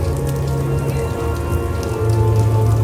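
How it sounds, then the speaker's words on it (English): Light drizzle falling outdoors at an Epic Universe theme park at night, a steady soft patter of rain on surfaces with a low background hum throughout, no speech. "It's just a light drizzle right now."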